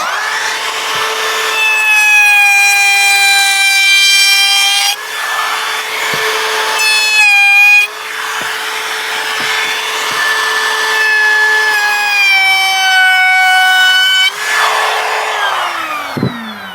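A power tool, likely a router, cuts a small chamfer along the edge of a scrap piece of wood, a loud steady whine with a constant tone that drops briefly three times as the cut pauses and resumes.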